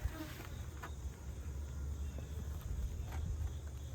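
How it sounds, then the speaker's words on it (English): Honeybees buzzing around an opened beehive during a honey harvest, a steady soft droning hum with individual bees passing close by, no talk. "There'll be a ton of bees there, right?"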